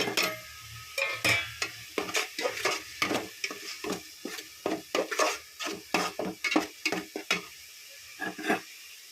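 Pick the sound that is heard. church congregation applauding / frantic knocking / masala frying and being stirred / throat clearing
masala frying and being stirred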